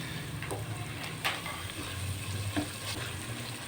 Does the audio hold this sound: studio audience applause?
no